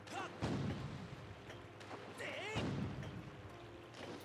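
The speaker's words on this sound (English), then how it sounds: "We must pursue and keep pounding with all the cannon." Cannon fire from a pirate ship in the video game Skyward Sword: two heavy booms roughly two seconds apart, each ringing out over a bed of game music and ambience.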